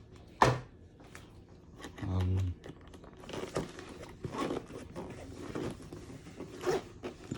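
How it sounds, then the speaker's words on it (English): A zipper on a soft but sturdy headset case pulled open in a smooth, brief rasp near the mic, followed by faint handling rustles and light crinkling. "Ooh, the zipper is smooth."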